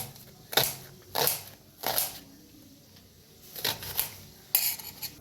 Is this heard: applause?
no